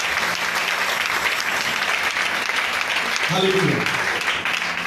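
A congregation claps for Jesus at a Word & Worship Tour event, with steady, loud, continuous applause throughout. A voice calls out briefly over the clapping near the end.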